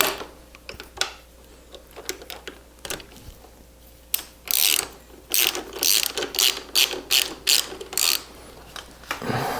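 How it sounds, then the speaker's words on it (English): A ratchet turns in a spark plug on a Yamaha Tenere 700 motorcycle: a few scattered clicks at first, then dense runs of sharp, close ratcheting with no speech. "we'll get her seated in with your fingers first before using the ratchet"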